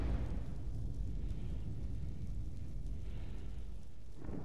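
A thrown grenade in the shooter game FEAR 2 erupts into a deep, rumbling blast that rolls on for several seconds as a dense low roar, with a second swell near the end.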